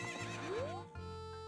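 A horse in The Legend of Zelda: Ocarina of Time gives a loud, rising whinny over looping game music.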